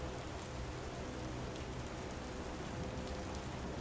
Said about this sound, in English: I could listen to this rain sound for going to sleep